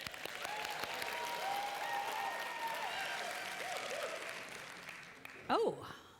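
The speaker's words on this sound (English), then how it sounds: "This was your last chance to applaud, so get it out of your system." Audience applause at a prayer service, a sustained broad wash of clapping from a congregation, with a voice speaking over it and a brief louder burst near the end.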